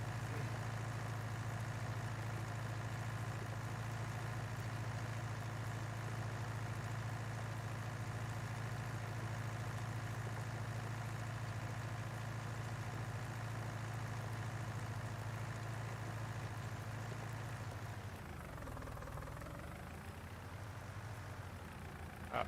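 An old tractor engine idles steadily in Farming Simulator 22, a low, even hum that holds for a long stretch and then dips and shifts in pitch near the end.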